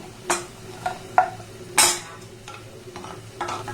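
Fried kalojam sweets go one by one into sugar syrup, with a few sharp clinks and soft splashes of a spoon against a pot, spaced irregularly over a quiet kitchen background.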